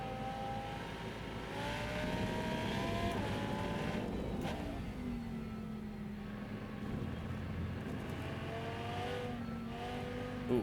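A Mazda MX-5 race car in the Rennsport racing game at Laguna Seca, its engine revving and rising steadily through the gears, with repeated climbs and drops in pitch and no voices.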